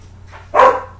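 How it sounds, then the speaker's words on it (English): A big fluffy dog gives a single sharp bark, close and loud, after a moment of near silence with a faint low hum in the room. "Sorry about my dog."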